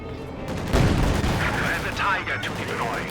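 Heavy machine gun fire from a DShK in a Company of Heroes 2 battle, with a sharp burst near the start and continued gunfire and battle noise under game commentary.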